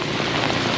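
Steady rain falls on a city street in Saigon, a dense, even hiss filling the clip from start to finish with no voices.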